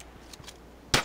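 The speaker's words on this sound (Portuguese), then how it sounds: "Os caras todos atirando" A single sharp gunshot from the mobile shooter game Standoff 2, loud and close near the end, after a few faint clicks over quiet game ambience.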